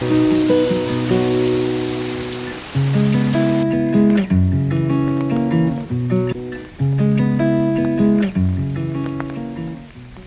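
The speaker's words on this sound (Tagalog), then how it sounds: "At dito na muna ako guys magpapatila ng ulan" Rain falls on a botanic garden forest as a steady broadband hiss, clearest in the first few seconds and then largely covered by prominent melodic music.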